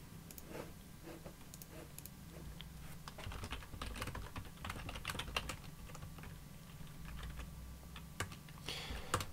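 Fingers type router configuration commands on a computer keyboard, giving a quiet, close stream of irregular key clicks with small pauses and a faster flurry near the end.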